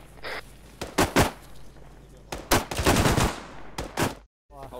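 Repeated bursts of rifle and automatic gunfire in the military shooter ArmA 3, loud and close, coming in uneven volleys with short gaps between them, with no talking.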